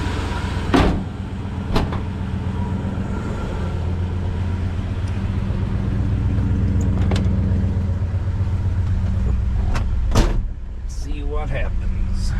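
A 1979 Dodge Stepside truck engine idles steadily as it warms up, a low continuous rumble with a few sharp clunks and door-like thuds over it, and some faint talk in the background.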